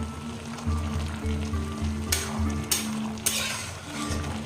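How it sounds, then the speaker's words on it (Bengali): Young bottle gourd and fresh pond prawns cooking in spices and salt in a pan sizzle and bubble steadily while a spoon stirs, with a few sharp scraping strokes against the pan rising above the frying. "এবার একটু নাড়িয়ে দেবো।"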